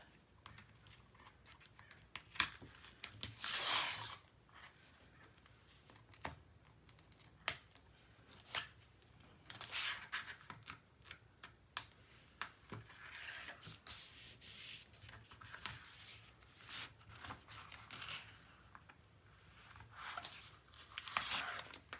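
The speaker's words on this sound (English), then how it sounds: "Now I'm going to sneak in here and I'm going to remove the rest of the tape." Tape peeled and rubbed off during a 10 x 9 x 2.5 album build, coming as soft close scratchy strips and rustles in irregular bursts over a quiet room.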